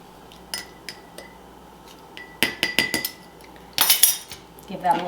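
A metal spoon clinks against a bowl while stirring milk and lemon juice, a few sharp taps followed by quick rattling bursts, close and clear with no talking.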